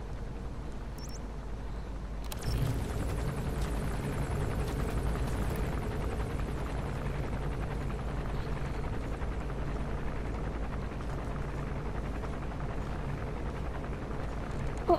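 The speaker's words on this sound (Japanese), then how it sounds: "戦闘ヘリは、あ、先ほどの基地巡回してる" Combat helicopter from Metal Gear Solid V: The Phantom Pain patrolling over a base, a steady low rotor drone that swells in after a brief quiet start and holds loud and continuous throughout.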